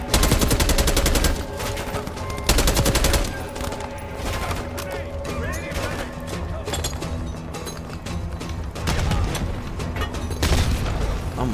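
Dense gunfire and repeated grenade blasts from a Call of Duty Black Ops 6 firefight, loud and continuous, with heavy booms and rapid automatic bursts layered throughout.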